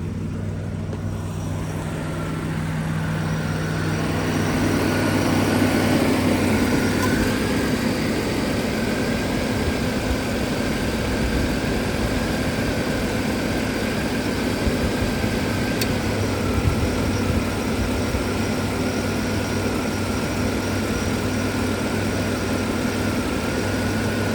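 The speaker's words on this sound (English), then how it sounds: "let's see how the engine runs" A 1987 Buick Electra Park Avenue engine idles steadily with the AC on, a low continuous rumble with a faint whine on top, running evenly for the whole stretch.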